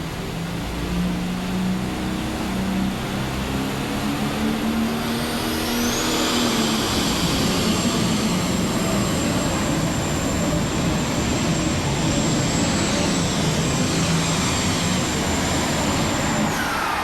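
A loud, sustained engine roar with a rising high-pitched whine, heavy and close throughout, from a light super stock pulling tractor at full throttle at a tractor pull in Louisville, Kentucky.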